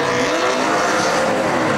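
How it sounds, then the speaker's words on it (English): A Dodge race car with an engine miss revs on pit road at a short track in Saskatoon, its loud, harsh engine roaring continuously at close range. "Jason White brings the AEW Dodge to pit road, revving that car up."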